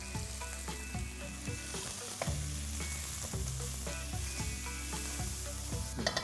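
Steady, loud sizzling of capsicum, grated carrot and cabbage stir-frying in a hot pan, with occasional scraping and clanks of a utensil tossing the food.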